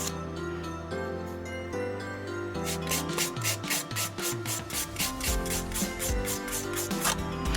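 An acrylic nail is filed with the coarse 100-grit side of a nail file, making close, rhythmic scratchy rasping strokes in quick succession.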